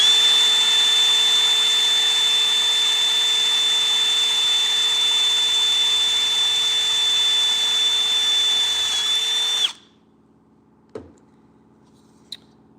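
Power tool whirring steadily and close while installing 10-24 nut inserts, a continuous high-pitched motor drone that cuts off abruptly, followed by a couple of sharp clicks.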